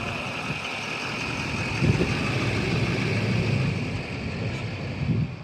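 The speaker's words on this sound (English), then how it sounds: "You can hear our truck still running in the background." A pickup truck's engine idles steadily at a New Mexico campground, a low continuous hum with a steady tone, partly masked by wind buffeting the microphone.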